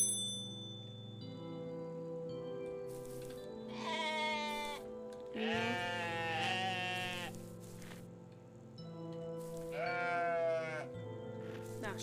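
Three clear goat bleats from the video game OneShot, wavering and nasal, each about a second long, sounding over a steady background music track with no talking.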